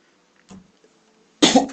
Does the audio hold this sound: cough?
yes